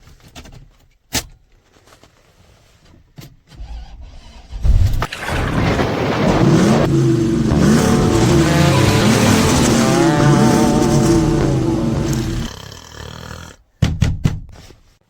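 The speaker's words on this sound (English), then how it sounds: "I decided I'm going to drive the Tundra" A prerunner Toyota Tundra pickup with a rebuilt junkyard 2UZ engine drives off. A few sharp clunks come first, then a loud, close engine roar that rises and holds for several seconds before cutting out, followed by scattered clicks.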